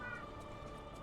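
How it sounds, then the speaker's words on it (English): A brief, moderately loud meow from a pet house cat comes through over a constant background hum, with no talking. "You guys might hear my cat right now because sometimes she can be a little loud"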